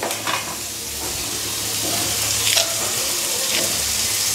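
Shredded cabbage with coconut sizzles and is stirred in a pan, a steady close frying hiss broken by occasional scrapes of the spatula, with no talking.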